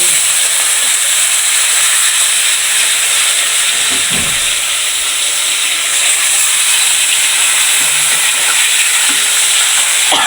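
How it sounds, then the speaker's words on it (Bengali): Koi fish frying in a pan with loud, continuous hissing and spattering oil, a close, intense sizzle throughout with a few soft clatters of a utensil. "আমার মাছ প্রথমে মাছটা ভেজে নিব।"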